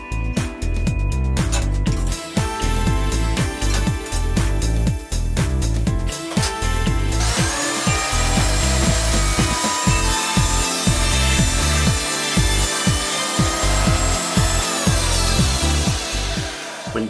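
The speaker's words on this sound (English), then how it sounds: "you want to run them through the planer to get exact thickness" Wooden slats for an end grain cutting board feed through a planer, giving a loud, continuous machine drone. Rhythmic thumps and cutting bursts repeat as pieces pass through, close by with no talking.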